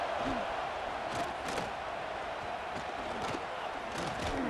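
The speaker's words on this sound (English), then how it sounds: "listen to this crowd noise. This stadium is vibrating." A packed college football stadium crowd in EA Sports College Football 26 roars as a steady, dense wall of noise, with occasional louder swells and shouts rising out of it.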